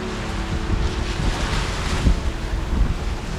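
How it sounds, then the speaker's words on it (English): Ocean waves crash steadily and loudly with heavy wind buffeting the microphone at a beach raft launch; a dense continuous roar without voices. "When the waves crash"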